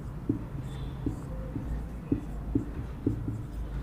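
Pen strokes writing out a Class 10 maths solution on paper, a series of soft, evenly spaced scratchy taps and short scribbles, close and quiet, with no talking.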